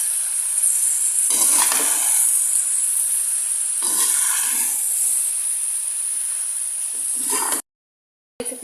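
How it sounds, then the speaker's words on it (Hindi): Macaroni mixed with masala and coriander in a hot pan, a loud steady hiss of frying with two longer bursts of scraping stirs, close up and without talk, ending in a sudden cut to silence. "मैकरोनी शामिल करेंगे, हम धनिया शामिल करेंगे, अच्छे तरीके से मिक्स कर लेंगे।"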